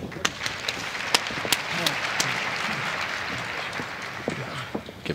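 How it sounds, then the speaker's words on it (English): Scattered applause from a crowd at a wrestling match, moderate and somewhat distant, running under a commentator's talk with a few sharp claps standing out. "Give himself a round of applause there"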